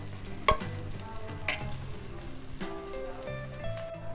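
Masala with mint leaves frying in a pan for a spicy samosa filling: a soft, steady sizzle under a few sharp spoon-and-pan knocks near the start, with a low tonal hum running throughout.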